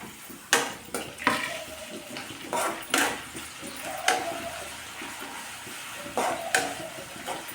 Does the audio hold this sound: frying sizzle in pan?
yes